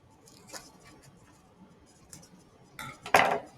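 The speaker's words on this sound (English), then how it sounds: "So I'm just gonna cut all the way around the outside of my leaf." Scissors snipping around a tissue paper leaf on parchment paper in a children's art project, a few faint, scattered cuts ending in a louder, sharper snip near the end, with no voices.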